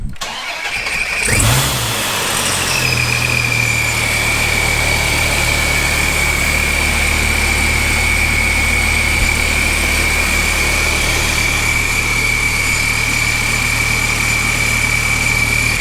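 A supercharged Dodge Viper engine fires up from a cold start, a sharp catch and brief flare settling within two seconds into a loud, steady, rumbling idle with a high whine that holds to the end.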